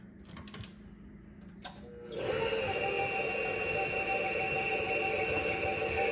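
A stand mixer with a paddle attachment starts up to mix cake batter with eggs, giving a steady motor whir with tonal hum that begins abruptly after a few seconds of light handling clatter.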